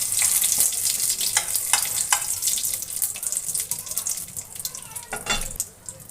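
A torn bay leaf, cardamom and cinnamon frying in a little oil, a close crackling sizzle with bursts of spattering that fades toward the end, with faint talk in the background.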